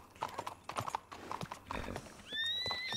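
Horse hooves clip-clopping in a roleplay video game, a run of sharp clops followed by a loud drawn-out whinny, close and clear with faint game ambience behind.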